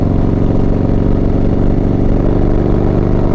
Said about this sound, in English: I'm sure we're hearing some of that exhaust there